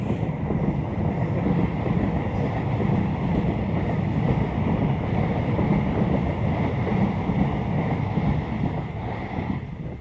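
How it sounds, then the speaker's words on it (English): A train rumbles past at fairly close range, a loud, continuous roar of wheels and wagons with some wind buffeting, lasting throughout with no voices; no distinct horn blast stands out. "here's a helpful train and a helpful train driver."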